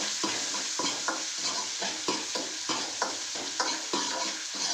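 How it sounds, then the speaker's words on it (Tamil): Onions and curry leaves sauté in a pan, a close frying hiss punctuated by a regular rhythm of spoon scrapes and stirs, roughly one every half second. "போட்டுட்டு நல்லா வெங்காயத்தை வதக்குறோம்."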